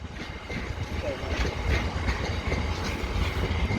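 A freight train rolls past at Peterborough with steady wheel clatter and a low engine rumble, moderately close and continuous throughout.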